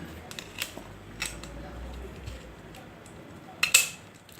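Old air-conditioned jacket fan switched by hand, a few sharp close clicks scattered among quiet room tone, with a louder cluster of clicks near the end.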